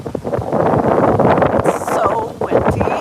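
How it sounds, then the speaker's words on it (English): Gusty outdoor wind blows hard into the microphone, a loud low rumble that carries on under a person talking throughout. "It got really windy."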